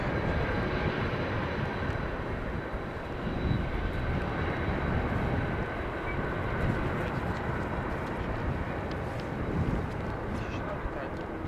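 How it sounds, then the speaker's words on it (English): An airliner rolls out after landing at Amsterdam Schiphol with light reverse thrust, a steady broad roar of jet engines that stays loud and constant, with a voice speaking over it. "only a little bit of reverse thrust applied there"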